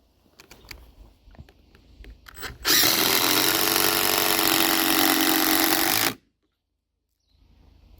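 A power drill drives a screw into a wooden sleeper for a garden pond build, a steady loud whirring burst of about three and a half seconds that stops abruptly, with scattered handling knocks before it and no talk.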